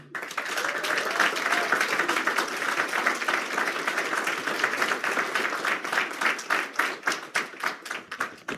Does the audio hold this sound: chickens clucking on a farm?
no